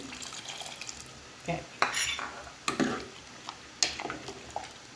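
A spoon stirs Jaffna-style sambar in a metal pot, making a handful of faint, scattered clinks and scrapes against the pot's side in a quiet kitchen.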